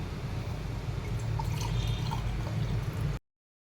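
Jamun sharbat is poured into a glass in a continuous, close, trickling stream of liquid that stops abruptly near the end.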